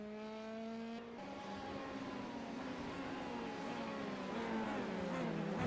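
An F3 race car engine whines and revs on track, its pitch dropping at a gear change and then climbing steadily again as it accelerates, growing louder toward the end with no talk over it.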